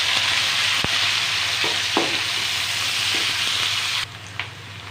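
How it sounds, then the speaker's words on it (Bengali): About a cup of chopped onion fries in hot oil in a pan, a loud, steady sizzle with a few stirring knocks that drops off suddenly near the end. "পেঁয়াজটাকে আমি একটু ভেজে নেব।"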